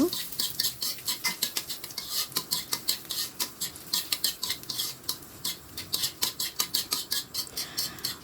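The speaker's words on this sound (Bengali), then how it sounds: "প্রথমে ঘি দিয়ে আমি বাদাম কুচিটা ভেজে নেব" Chopped nuts frying in ghee in a pan for a special semai, dominated by a spatula clinking and scraping against the metal in a quick, regular stirring rhythm, loud and close.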